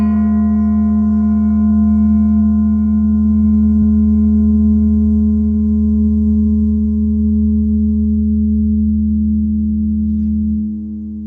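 A struck resonating bar rings out in a long, steady, pure tone with several clear overtones, sounding alone and fading only slightly over about ten seconds.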